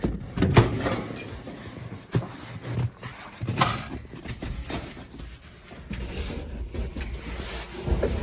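Thumps, creaks and metallic knocks of someone climbing into the cab of a 1943 GMC CCKW 6x6 army truck in snow, with several irregular bumps and rustles up close and no talk.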